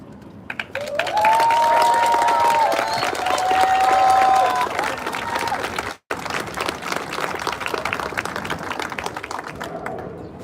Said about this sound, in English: please stand, so that way you can receive a round of applause